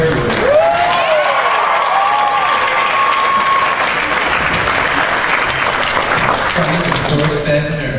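A large audience claps loudly and continuously at a VidCon 2014 panel, dense sustained applause with a few scattered whistles and cheers, while a voice speaks briefly over it.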